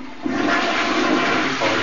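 A toilet flushes in a steady, loud rush of water with no pause.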